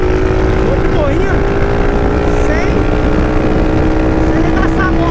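Honda Twister motorcycle fitted with a 79mm big bore kit accelerates uphill, its steady loud engine drone rising slightly in pitch and staying dense and close throughout, with no talk over it.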